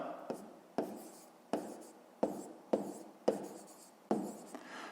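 Pen strokes on paper while working a fifth-grade maths exercise by hand, a close scratchy writing sound in a steady run of short bursts, each starting sharply and trailing off, about eight strokes in total.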